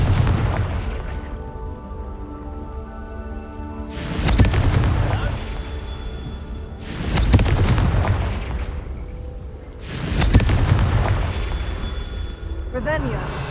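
Three loud fiery blasts from the Confringo spell in Hogwarts Legacy burst at even intervals about three seconds apart, each with a sharp onset and a rumbling decay over a steady game backdrop.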